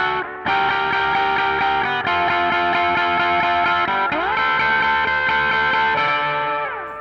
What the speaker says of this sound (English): Then pull the reverb out with the expression pedal when I go into the riff part.